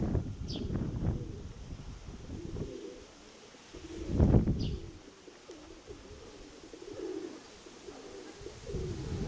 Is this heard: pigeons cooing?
yes